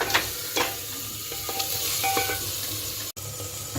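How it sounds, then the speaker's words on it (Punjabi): Masala stirred and roasted in oil with green chilli and powdered spices for a vegetable curry, a steady close sizzle under repeated scraping strokes of a spoon against the pan, with no talk. "ਜਦ ਤੱਕ ਮਸਾਲਾ ਤੇਲ ਨਹੀਂ ਛੱਡਦਾ ਤਦ ਤੱਕ ਅਸੀਂ ਮਸਾਲੇ ਨੂੰ ਚੰਗੀ ਤਰ੍ਹਾਂ ਭੁੰਨਾਂਗੇ"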